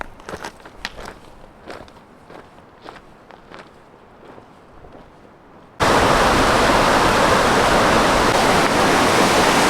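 Footsteps crunch along a trail at first, then Chips Creek takes over as a loud, steady rush of flowing water close by, drowning out everything else.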